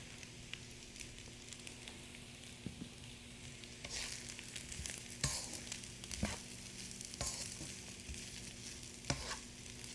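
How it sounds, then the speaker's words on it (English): Steady frying sizzle of rice in a pan over medium heat, for chili beef and shrimp fried rice, with occasional scrapes and stirring clatters over a constant low hum. "So she's frying on like really medium heat, so that way the rice does not get burned"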